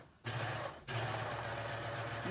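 A serger sewing machine stitches fabric and lace, running with a steady close mechanical whir that pauses briefly once before resuming continuously.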